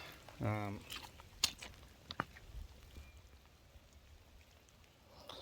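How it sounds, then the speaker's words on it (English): Rain beginning to fall at a creek outdoors, with scattered, faint raindrop taps and a few sharper close hits over a quiet background. "It's starting to rain now."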